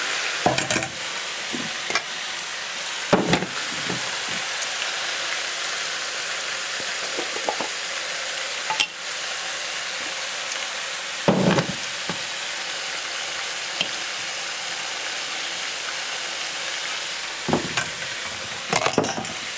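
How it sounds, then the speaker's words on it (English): Onions frying on high flame in a pan for roasted mutton curry, with salt added: a steady loud sizzle runs throughout while a spoon scrapes and stirs in several distinct bursts. "I'll mix it up and allow the onions to fry"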